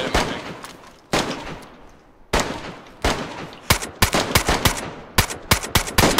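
Video-game gunfire from a teammate's weapon rattles in loud, close bursts of rapid shots separated by short pauses, ending in dense repeated volleys, with no voices.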